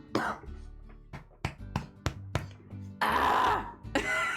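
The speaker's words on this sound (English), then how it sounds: "I just need to cough." A person coughing indoors, a string of short sharp coughs followed by a longer rasping throat-clearing burst, close and fairly quiet.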